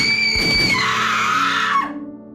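A piercing scream rings out in a spooky audio story, loud and sustained over a clanging, roaring backdrop, then cuts off and gives way to a fading low tone.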